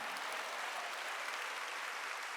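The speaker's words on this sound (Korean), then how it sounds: "보증을 깨달은 사람만 박수 쳐" A church congregation claps together during a Wednesday worship service, a dense, continuous wash of applause heard at a distance, steady and moderately faint throughout.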